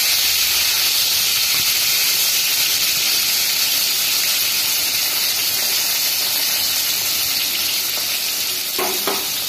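Pointed gourd and eggplant slices fry in hot oil, a loud continuous sizzle and steamy hiss that fills the whole stretch, with a few clinks of stirring near the end.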